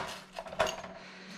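A knife or pizza cutter scrapes through the crisp crust of a homemade New York–style pizza, with a few short crunchy cracks and clinks against the pan, quiet and close with no talk.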